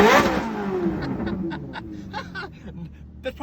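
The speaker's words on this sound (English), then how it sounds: "That's probably one of the best sounding cars." A loud, raspy sports car engine with straight-pipe exhaust roars up hard, then crackles and pops as revs fall, with a brief snicker of laughter near the end.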